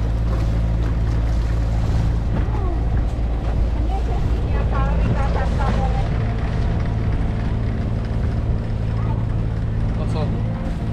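A sailboat off the coast of Croatia runs over the sea in strong wind, with steady heavy wind buffeting, a low rumbling hull and water wash, and voices talking intermittently throughout.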